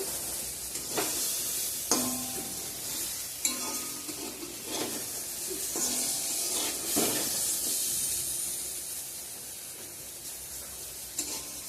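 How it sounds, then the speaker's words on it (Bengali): Brinjal slices frying in hot oil in a pan, a steady close sizzle and hiss with periodic scraping and stirring clicks throughout. "বেগুন ভাজাটা করে নিচ্ছি এখন"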